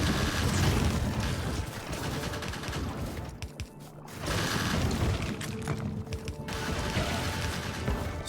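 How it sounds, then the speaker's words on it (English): Rapid, dense automated turret gunfire in the factory-building video game Factorio, a loud continuous rattle of many guns firing at once that thins briefly for a moment before resuming at full intensity. "Still so much gunfire."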